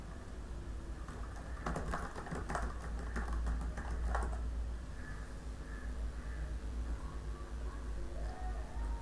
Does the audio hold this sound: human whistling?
no